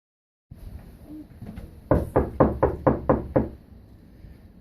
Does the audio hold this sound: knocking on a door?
yes